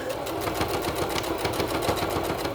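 A sewing machine stitches fabric at a slow, even pace, producing a close, continuous mechanical whir with a regular pulse of needle strokes and no talking.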